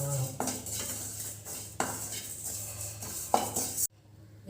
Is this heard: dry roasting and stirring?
yes